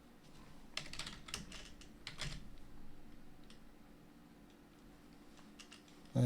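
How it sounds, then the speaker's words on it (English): Someone types on a computer keyboard, with quiet, quick bursts of key clicks that come in short runs with pauses in a quiet room. "And I thought I was typing in there,"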